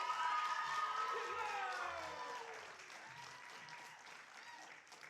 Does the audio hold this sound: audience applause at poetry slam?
yes